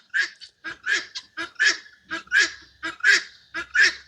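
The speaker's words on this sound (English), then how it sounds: "You hear the birds?" Geese on a farm honk repeatedly and loudly, a rapid series of nasal calls close by, nearly a dozen in about four seconds.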